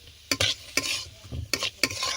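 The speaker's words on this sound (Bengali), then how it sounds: "এগুলো ভালো করে ভেজে নেব।" Vegetables, including beetroot, being stirred and fried in a pan for a vegetable chop filling, with a soft sizzle under repeated sharp scrapes of a spoon against the pan.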